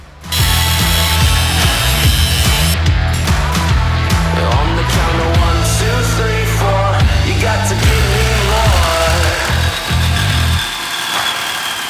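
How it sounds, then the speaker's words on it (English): Power tool trimming the corners of a universal axle bridge for a Jeep long-travel suspension build, a loud continuous whine with shifting pitch that runs steadily for nearly the whole stretch, then eases slightly at the end. "Let's get these little corners trimmed up and see how it lays."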